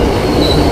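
An Amtrak Silver Star passenger train from New York roars past close and loud, with steady rumble and squealing wheels filling the whole brief moment.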